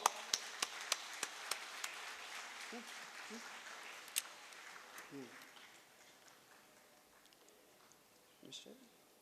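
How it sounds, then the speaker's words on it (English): Guests at a company's 30-year celebration staff family event give scattered applause, mostly distant and faint, with a few sharper close claps early on before it thins out into background murmur. "Please have a huge round of applause."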